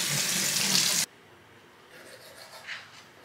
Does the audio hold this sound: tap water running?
yes